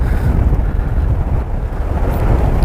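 Strong wind roars steadily outdoors during a fishing outing, buffeting the microphone with loud, continuous low rumble and gusts throughout, no voices.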